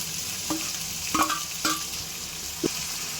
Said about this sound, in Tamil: தக்காளி நல்லா வதங்கி வரணுங்க.